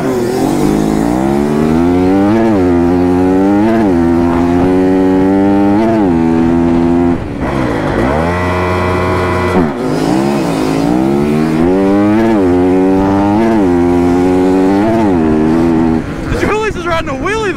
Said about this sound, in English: Julius is riding a wheelie the whole way.